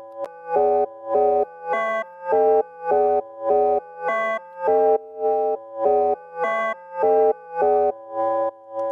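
Main melody of a reggaeton beat, a synth pattern of repeated chord stabs that pump rhythmically in a steady loop from sidechain reverb, loud and alone with no voices.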